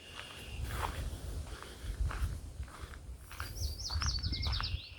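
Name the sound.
red-winged blackbird calling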